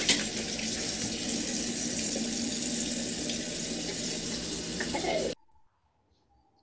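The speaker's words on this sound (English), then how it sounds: "Do another quick rinse." Tap water runs steadily into a sink during pickle-making prep, a continuous close splashing rinse that stops abruptly near the end, leaving near silence.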